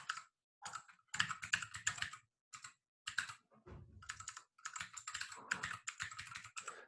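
Rapid typing on a computer keyboard, set apart from the usual one, comes in close, crisp bursts of key clicks with short pauses between them and no talking.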